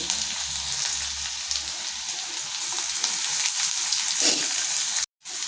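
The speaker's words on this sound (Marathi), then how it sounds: "आता आपण याच्यात कांदा टाकूया" Onion goes into hot oil with garlic and green chilli and fries with a loud, dense, steady sizzle and a few stirring scrapes, then cuts off abruptly near the end; no speech.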